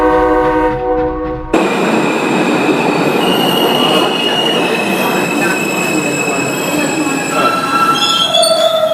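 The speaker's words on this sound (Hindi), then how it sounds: "लगता है ट्रेन रुक गई है" Train wheels squealing on the rails as a train brakes to a stop, a loud sustained metallic screech with layered high tones running steadily after a brief lead-in of other sound.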